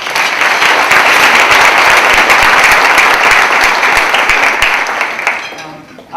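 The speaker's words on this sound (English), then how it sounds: "let's give them a round of applause" A sustained round of loud audience applause honors teachers and kids at a school, with steady dense clapping for about five seconds before it tapers off near the end.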